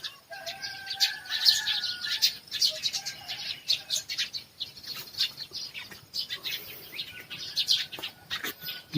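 Many birds chirping and twittering in the morning in bright, overlapping bursts, some wing flutters, against a quiet background.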